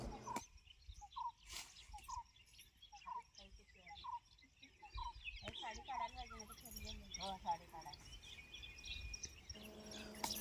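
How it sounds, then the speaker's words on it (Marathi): Small birds chirp at sunrise on a Konkan village farm, faint repeated tweets scattered through quiet morning air, with someone speaking softly over them partway through. "पक्ष्यांचा किलबिलाट"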